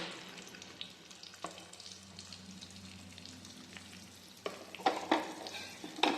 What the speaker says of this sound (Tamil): வெங்காயம் பூண்டு வரமிளகா கருவேப்பை எல்லாத்தையுமே போட்டு தாளித்துக்கலாங்க